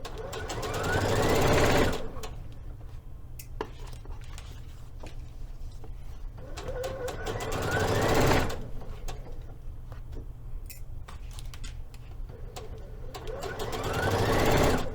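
A sewing machine stitches a Liberty London Florence palazzo suit in three loud bursts, each running about two seconds, with quieter pauses between them where the machine hums faintly and the fabric is handled.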